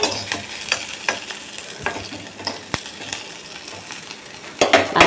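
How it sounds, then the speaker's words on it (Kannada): Tomatoes frying and being stirred in a pan at home, with a steady close sizzle broken by sharp metallic scrapes and clinks of a spoon against the pan. "ಟಮಾಟಿಕಾಯಿ ಹುರ್ಕೊಳಕತ್ತೀನಿ ರೀ"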